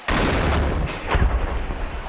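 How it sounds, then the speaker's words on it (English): Heavy booming Turkish artillery fire in northern Syria with a loud initial blast and a second thump, followed by rolling, echoing rumble. "Turkish airstrikes and artillery fire aimed at the Kurds."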